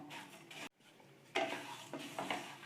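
Cinnamon bark frying in a pan on a switched-off stove, quiet crackling and scraping stirs in short bursts, broken by a brief silent gap early on.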